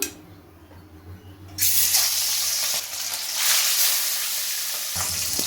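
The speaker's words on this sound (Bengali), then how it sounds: "তেলটা গরম হয়ে গেছে, আমি অল্প অল্প করে মাছ ভেজে নেব।" Pieces of rohu fish hit hot white oil in a pan, a loud, steady broadband sizzle bursting in after a quieter start and holding close and continuous to the end.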